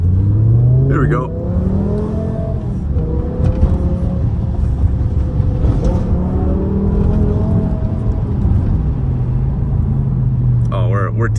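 A 2006 BMW M5 E60 accelerating hard on the road, its engine note climbing loudly through repeated pulls and gear changes, close and dominant, with someone talking over part of it.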